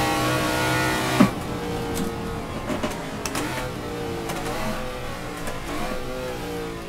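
Engine of an old-school American car in the Assetto Corsa racing game, a steady low drone with shifting harmonics and a brief gear-change thump, running alone without voices.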